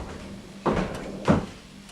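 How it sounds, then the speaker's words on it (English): A pub door blows open in a gust of wind, two wooden knocks and rattles about half a second apart, close and moderately loud. "Then the door blew open to a gust of wind."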